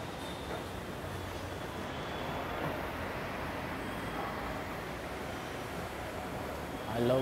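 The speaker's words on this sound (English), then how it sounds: "here we are in Alwa metro station" A metro train at Aluva metro station in Kochi, Kerala makes a faint, steady rumble and hiss that swells slightly toward the end.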